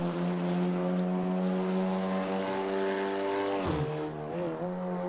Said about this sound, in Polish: możemy posłuchać jak ten samochód brzmi w trakcie jazdy